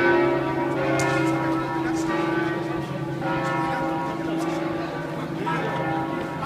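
Church bells peal at St Mark's in Venice on a Sunday morning, loud overlapping resonant strokes ringing continuously with a sustained hum, heard near from the bell tower, with some voices under them.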